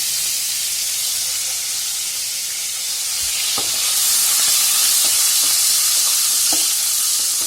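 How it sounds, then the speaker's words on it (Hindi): Ginger garlic paste fries in hot oil with a bright, continuous hiss and sizzle. It swells a little louder midway, with scattered soft pops and stirring clicks and no talk over it. "इसको तकरीबन 1 मिनट तक सिर्फ भूनेंगे, ज़्यादा नहीं, सिर्फ 1 मिनट बहुत है"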